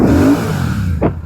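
A Royal Enfield Super Meteor 650 motorcycle engine idles with a low rumble, then a single short rev swells and fades near the end, close to the microphone.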